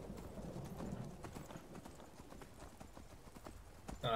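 Horse hooves clip-clopping in a video game, a steady rhythmic patter at moderate distance, faint and continuous, ending with a brief louder sound.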